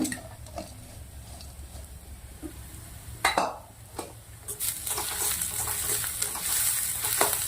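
Okra sautéing in a pan for Indo-Chinese chili bhindi: scattered stirring clicks and scrapes over a low sizzle that swells into a steady, bright frying hiss in the second half.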